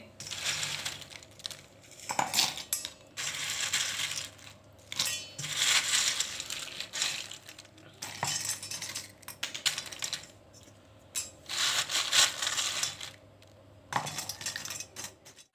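Crushed Parle-G biscuit powder tipped from a mixer jar into a cooking vessel, heard as repeated soft rustling, tapping and scraping bursts at close range, quiet overall with no talking.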